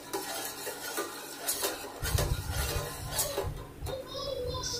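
A mango, cheese and milk mixture is stirred in a pot over the heat, the utensil scraping and clinking against the pan with a soft sizzle underneath, close and moderately loud, with no talking.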